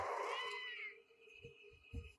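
A black cat meowing in a Tamil comedy film, one drawn-out, fairly loud meow at the start that fades, followed by soft low thuds and background sound.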